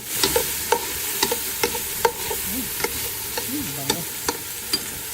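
Pork and garlic for chop suey frying in a pan while being stirred, a steady sizzle under scattered utensil clinks and scrapes, no voices.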